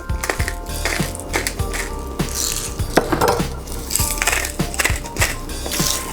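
Salt and pepper are ground over salmon, a close, rapid series of dry grinding clicks and crunches in short repeated bursts.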